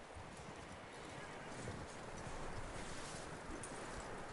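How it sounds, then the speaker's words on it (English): In Red Dead Redemption 2, horse hooves clip-clop steadily under faint game voices, with a whinny mixed in and low ambient rumble behind. "Get that horse hitched."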